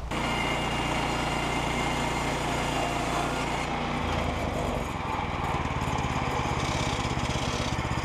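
A sawmill engine cutting strips of already-milled wood: loud, continuous mechanical droning close by, with a shift in pitch and load about halfway through.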